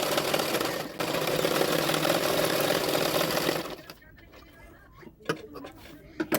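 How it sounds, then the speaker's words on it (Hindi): A sewing machine runs steadily while stitching extra fabric along the edge of a double katori blouse, then stops after a few seconds, leaving quieter handling clicks and rustles. "अभी सिलाई कर लूँगी किनारे किनारे पे"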